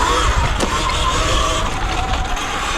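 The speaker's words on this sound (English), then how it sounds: "it's hilarious how beat up this bike sounds" A beat-up motorcycle engine idles and revs unevenly, a rough rattling drone close by with a brief sharper blip near the start, loud and continuous.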